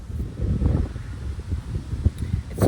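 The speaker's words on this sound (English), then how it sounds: "It's windy." Wind gusting through a vegetable garden beside flowering second-year celery plants, rumbling and buffeting close to the microphone in uneven low surges, with no speech.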